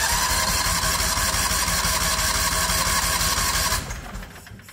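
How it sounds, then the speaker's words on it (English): A 670 cc Predator engine cranks over with the throttle held wide open, a fast, even, loud chugging rhythm of the starter for nearly four seconds before it stops and fades out. "when you're cranking the engine over, you also have to hold the throttle wide open"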